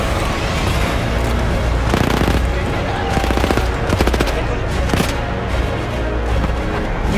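Rapid gunfire from the World War I shooter Battlefield 1, dense and loud throughout, with bursts of automatic shots layered over constant battle noise.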